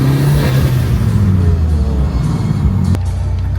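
A 300 kW Mitsubishi Evo engine revs loud and close in a low, throaty rumble, with a sharp turbo flutter burst near the end.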